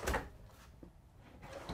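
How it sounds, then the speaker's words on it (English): A full-extension drawer in a Jayco Eagle fifth-wheel RV kitchen slides shut, a close soft-closing thump followed by a quieter rolling slide and a faint second knock near the end. "You have full extension drawers."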